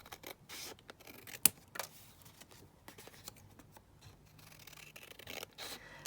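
Scissors trimming paper for a junk journal, quiet snips and paper rustles close by, with one sharp cut standing out among soft scratching handling sounds.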